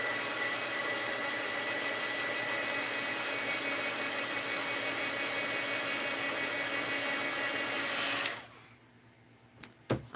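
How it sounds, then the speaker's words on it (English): Heat gun blowing steadily over a painted envelope to dry the paint, a loud continuous whooshing drone with a high whine that cuts off abruptly near the end, followed by near silence and a few faint clicks. "Where's the heat gun?"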